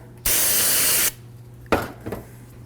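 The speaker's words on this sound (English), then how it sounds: "So now we just use a little bit of brake clean on a rag." A can of brake cleaner sprays a steady, loud hiss onto a rag for just under a second in a garage during a cylinder head rebuild, followed by a few soft rubbing and handling sounds.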